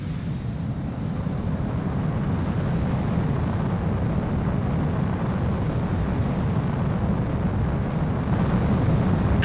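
Fighter jet taking off in Ace Combat 04: Shattered Skies, a loud, steady roaring engine rumble that holds powerful and continuous with no speech over it.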